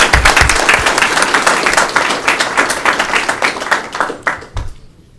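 A union general membership meeting audience applauds two new union reps: dense, loud clapping from many hands that holds steady for several seconds, then thins to a few scattered claps before stopping.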